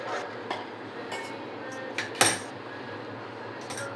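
A milk mixture for coconut sweet is stirred in a pan, giving sparse metal clinks and scrapes against steady background hiss, with one sharper knock partway through and no talk.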